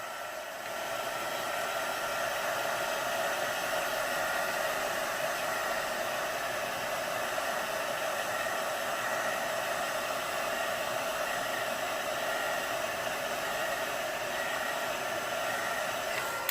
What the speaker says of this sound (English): I'm gonna dry it with the heat tube